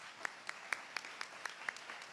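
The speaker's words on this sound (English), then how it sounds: "if everyone could give another round of applause to the people standing behind me" Sparse, faint clapping at a launch event, a few distinct hand claps spaced evenly over two seconds, quiet and somewhat distant.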